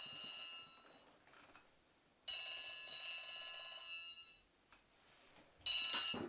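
Telephone ringing indoors, fairly faint, with long sustained ring bursts separated by pauses and a louder ring starting at the end, no talk.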